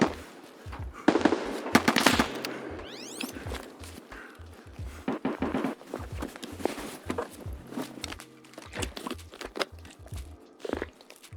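MP-153 semi-automatic shotgun fired repeatedly while fighting scavs in Escape from Tarkov, a run of sharp irregular blasts with crunchy clatter and footsteps between shots, fairly close.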